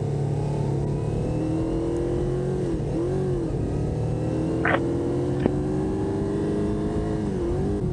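CFMOTO 450SS sport motorcycle engine pulling steadily under acceleration, a continuous close drone with rising and dipping pitch and a couple of brief sharp clicks.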